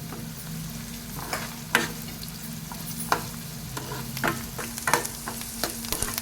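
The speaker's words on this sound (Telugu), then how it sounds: "చూడండి, ఇలా అయితే వేగాలి. వేగిందండి, మంచిగా వేగింది." Flattened rice (atukulu) frying in a pan for Telangana-style upma, a steady soft sizzle with scattered stirring scrapes and clicks, close and fairly quiet.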